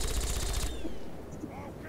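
Rapid automatic gunfire in the Fallout 3 video game, a loud burst of machine-gun shots that ends abruptly and leaves faint game sounds and a short whistling tone behind.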